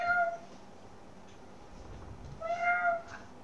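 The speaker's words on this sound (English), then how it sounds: "Hey baby, why are you meowing, huh?" A pet cat meows twice indoors, a short call at the start and a longer one near the end, with quiet room tone between.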